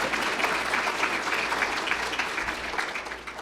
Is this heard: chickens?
no